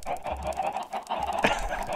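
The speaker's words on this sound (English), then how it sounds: "Oh, chickens!" Chickens cluck repeatedly in the video game Minecraft, a steady run of close, bright clucks over a low background hum, with no talking.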